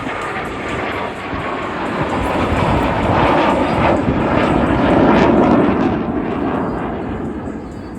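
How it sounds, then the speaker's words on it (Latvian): A Luftwaffe Eurofighter Typhoon jet makes a fly-by at the Baltic International Airshow 2024, a loud, broad roaring rush that swells toward the middle and then eases slightly as it passes, steady and continuous throughout. "Paskaties, te ļoti tuvu var lidmašīnas redzēt."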